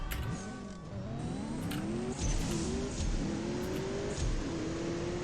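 A BMW M8 Coupe accelerates hard in a CSR2 drag race, its engine note climbing in repeated rising sweeps, dropping with each gear shift, then pulling up again, loud and steady throughout.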